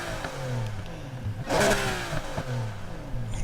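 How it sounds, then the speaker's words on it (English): A Pagani Huayra BC '17 exhaust in the racing game NFS Heat, revving through a few rising and falling engine sweeps with a sharp, loud burst in the middle, heard alone. "Let's go to the exhaust sound."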